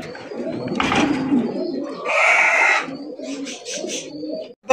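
Bombay pigeons, a large-sized breed, coo in soft repeated rolling phrases at close range, with a brief burst of wing or rustling noise partway through and no talk.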